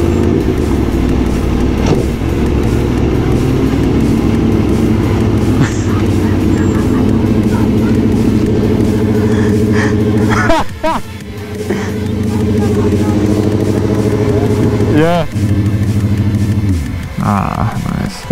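A stunt motorcycle engine runs up close and loud, idling with a steady drone, then blipping through several sharp revs near the end, while people talk over it.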